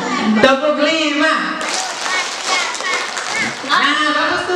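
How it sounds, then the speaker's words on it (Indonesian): A group of children clap their hands in a short burst of claps amid lively, overlapping young voices in a classroom setting. "Kalau tepuk 5 berarti 5 kali ya"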